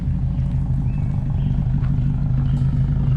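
A Subaru STI idles through a 3-inch straight-pipe exhaust on stock headers, giving a close, steady, deep low rumble with no revving.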